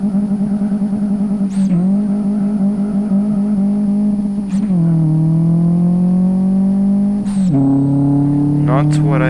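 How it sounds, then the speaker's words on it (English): Engine of a VW Saveiro 1.6 single turbo in the Live for Speed racing game at full throttle, a loud steady drone that climbs in pitch and drops sharply at each gear change, three shifts in a row. "Let's do a full throttle pull."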